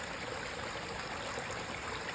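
Water from a garden pond waterfall spills and flows in a steady, continuous rush, close and even throughout with no breaks or other sounds.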